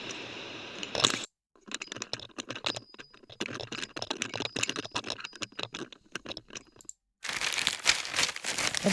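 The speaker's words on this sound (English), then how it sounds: "I think that's crunchy plastic." A crunchy plastic packet of tea cakes is crinkled and crushed close to the microphone in rapid, irregular crackling bursts, with two brief silent pauses and a louder rustle at the end.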